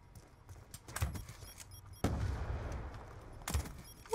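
Crossbow shots in a video game fire in quick succession: sharp bursts near 1 second and just after 2 seconds, then another near 3.5 seconds. Rustling and clattering gameplay noise fills the gaps, with no speech.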